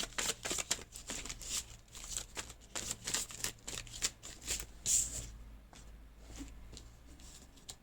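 A deck of oracle cards being shuffled up close: repeated riffling and sliding flutters in uneven bursts, with no one speaking.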